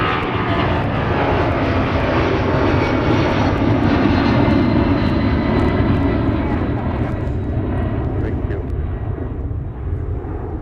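Aircraft engines roar loudly and continuously at MSP airport in the Twin Cities, a steady broadband drone that swells and then eases slightly toward the end.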